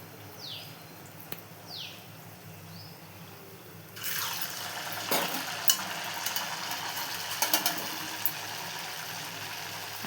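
Jaggery appams (bellam boorelu) dropped into hot oil: a few seconds of near-quiet, then a swelling sizzle with scattered crackles and pops that keeps bubbling.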